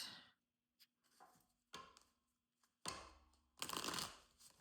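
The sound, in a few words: tarot cards being shuffled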